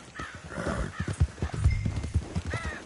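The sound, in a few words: horse galloping in Red Dead Redemption 2 video game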